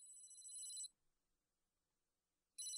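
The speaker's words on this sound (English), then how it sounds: "the phone rings." An electronic telephone trills in two bursts of high warbling ring separated by a quiet gap of nearly two seconds, faint and played back.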